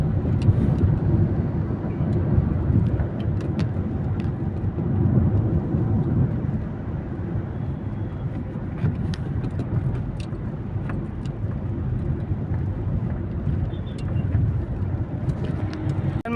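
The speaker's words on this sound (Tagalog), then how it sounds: "Ayan po, tingnan niyo po sa kabila sa left side ko po ay tuloy po ang daloy ng trapiko." Road traffic flows steadily near a flyover at Katipunan heading toward Ateneo, a dense continuous rumble of passing vehicles heard from close by, without pauses.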